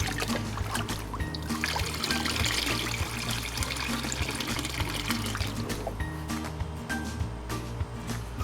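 Water gurgles and trickles into a floating watering can as it fills and sinks, a steady, close bubbling and pouring that runs the whole time with a low rumbling underneath.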